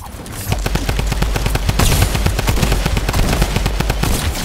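Rapid automatic gunfire in a video game rattles loudly and almost without pause throughout, a dense string of close shots.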